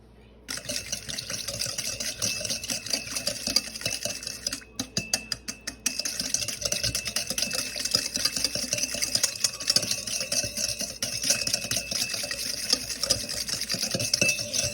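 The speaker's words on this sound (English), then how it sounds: "now let's get a whisk." A whisk scrapes and clicks rapidly against a bowl, breaking up a salt and brown sugar mixture in a home kitchen, an uneven close stirring rhythm with a brief pause midway and no speech.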